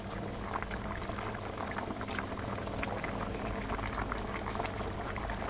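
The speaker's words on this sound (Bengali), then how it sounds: "মাছ এবং ডাল একসাথে ভালো করে সিদ্ধ করে নেব" A pot of rohu fish and lentils boils with a dense, steady bubbling rumble, close and constant throughout, with no talking.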